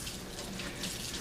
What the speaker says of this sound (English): you're just gonna run the potato under hot water and just scrub